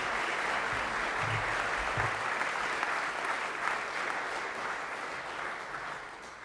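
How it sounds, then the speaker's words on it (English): Students at a school chapel service break into sustained applause, a dense, even wash of many hands clapping together that fades slightly toward the end. "So give yourselves all a nice big round of applause"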